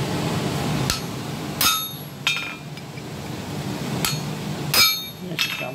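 Sharp hammer blows drive a shamrock stamp punch into metal, several ringing metallic strikes spaced irregularly over a low background hum.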